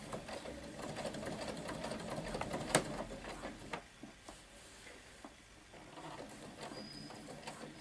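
A sewing machine runs steadily topstitching a skirt, its fast rhythmic needle clatter continuous and close, slowing and easing near the end as the seam finishes with a backstitch.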